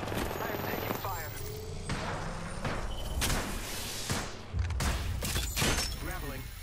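Apex Legends gunfire crackles in dense, loud bursts and sharp broadband cracks, with a voice talking over the shooting.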